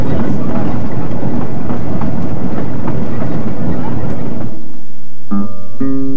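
A historic narrow gauge train runs on a Colorado mountain line near an old silver mine, with a loud, continuous rumble and clatter that eases off, followed near the end by two short tonal blasts.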